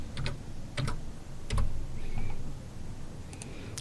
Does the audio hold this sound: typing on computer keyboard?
yes